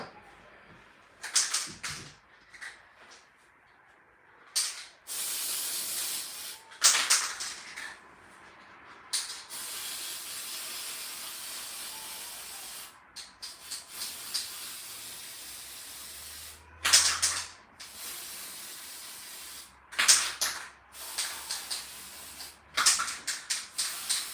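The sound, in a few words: gold spray paint being sprayed on cake decorations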